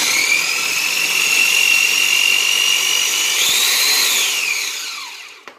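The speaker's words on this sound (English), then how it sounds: "I grind lang ang garlic" An electric grinder whirs steadily as it grinds garlic, a loud continuous motor drone that rises slightly in pitch near the end before winding down and stopping.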